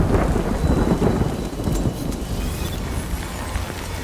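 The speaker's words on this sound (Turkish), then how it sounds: "Good thing it was raining." Heavy rain and rumbling thunder in the video game Death Stranding, a dense, steady downpour with low booming rolls throughout, loud and continuous with no voices.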